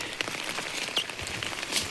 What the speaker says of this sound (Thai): ตอนนี้ฝนอยู่